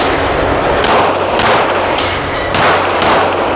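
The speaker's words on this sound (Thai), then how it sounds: "อันนี้พี่ยิงให้ดูสองนัดก่อนนะ" Handgun shots at an outdoor shooting range: a few sharp, loud cracks spaced roughly half a second to a second apart, each ringing briefly against a constant background hiss.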